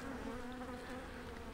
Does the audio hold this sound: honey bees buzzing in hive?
yes